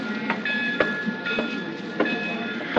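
A train rumbles steadily along the track with periodic clacks of wheels over rail joints and a faint metallic whine, heard from inside the carriage.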